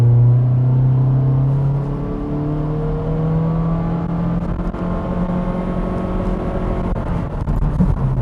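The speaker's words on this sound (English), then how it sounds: "Road noise, there is road noise" Steady cabin road noise inside a 2022 Honda Civic Sport Hatchback on the move, a continuous low rumble with faint engine drone rising and falling slightly, no talking.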